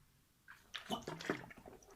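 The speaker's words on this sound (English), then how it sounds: "We drink some water through my Man City bottle." Water is drunk from a light blue plastic Man City bottle, with close, wet gulping and sloshing sounds in short bursts.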